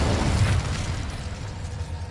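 A whooshing burst from the Incendio fire spell in a PS5 wizarding game, loudest at the start and then fading into a low roar.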